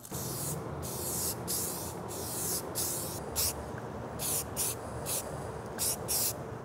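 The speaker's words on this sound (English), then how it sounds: "Now I think I can go prime these, the last round of priming before paint." Primer sprayed from a can onto a resin Mehrunes' Razor dagger in repeated short hissing bursts, each about half a second, close and loud over a steady background hiss.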